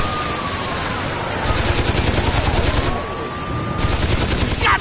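A mounted machine gun in Saints Row 2 hammers out two long, loud sustained bursts separated by a short pause, over engine rumble and a steady background drone.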